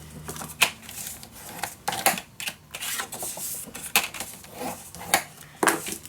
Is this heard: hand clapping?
no